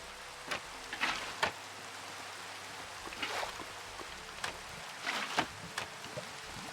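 Rain falling in Minecraft, a soft continuous hiss with scattered sharper drop-like spatters and splashes recurring irregularly, fairly quiet, no talking.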